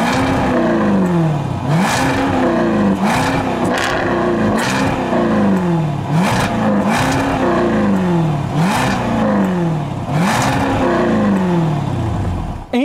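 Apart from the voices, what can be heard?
2021 Jaguar F-Type R engine revving, quad exhaust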